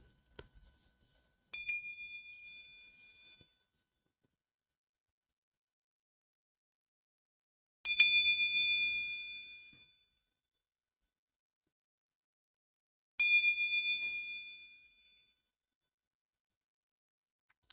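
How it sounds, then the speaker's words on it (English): A bell struck three times to open a reiki healing session, each ring a bright, clear metallic strike that lingers and fades over about two seconds, spaced several seconds apart in an otherwise silent room. "I'm going to go ahead and ring this bell to begin our session."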